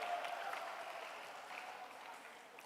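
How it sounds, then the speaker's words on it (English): Applause from a conference audience at an international health sciences conference, a continuous even patter of many hands clapping that fades slightly, heard at moderate distance. "let's give a warm applause to our speakers and moderator"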